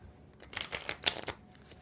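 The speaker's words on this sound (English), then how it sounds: "I'm trying to feel out how I want to shuffle this." Tarot cards are shuffled up close, a short burst of quick riffling flutters and soft slaps, quiet and alone.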